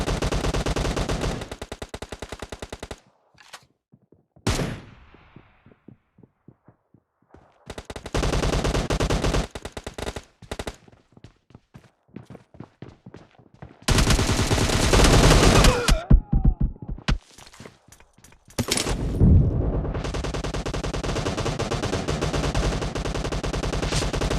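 Gunfire in PUBG team deathmatch, with loud, rapid automatic bursts broken up by short pauses and scattered single shots, and long sustained volleys near the end.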